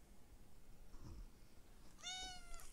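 A cat gives a single short, clear meow near the end, faint overall in a quiet room with soft low background rumble.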